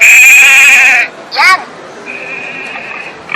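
An electronic sheep bleat from a children's sound play book, a loud, quavering synthetic baa followed by a short chirpy tone and a softer sustained beep, with a voice talking around it.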